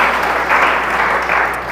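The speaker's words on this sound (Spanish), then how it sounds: "denle un aplauso al Señor" A church congregation applauds, a dense steady wash of clapping from many hands throughout.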